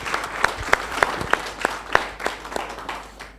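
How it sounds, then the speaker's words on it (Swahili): Applause at a savings and credit co-operative's annual general meeting: a crowd claps together in a distinct rhythmic beat, with sharp synchronized claps roughly every third of a second over a background of scattered clapping. "Yani mmepiga makofi mpaka sauti imeenda."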